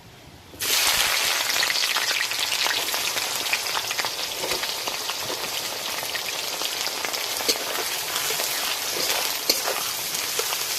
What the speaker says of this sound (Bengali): ফোড়ন ভাজা হয়ে গেছে, ফোড়ন থেকে একটা সুন্দর গন্ধ ছেড়েছে। এবার এর মধ্যে দিয়ে দেবো পেঁয়াজ কুচি।